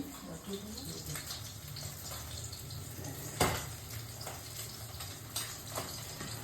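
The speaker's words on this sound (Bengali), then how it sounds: "আচ্ছা দাঁড়াও আমি হাত ধুয়ে" Hands being washed under a running tap at home while potato mash with dried chilli, onion and oil is being prepared; a steady, soft wash of running water continues throughout, with a brief louder splash partway through.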